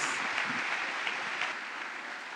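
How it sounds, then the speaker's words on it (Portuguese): A church congregation applauds during a worship celebration, a continuous wash of many hands clapping at moderate distance, even and unbroken, with no speech on top. "Vamos aplaudir o Senhor Jesus, que Ele é bom demais"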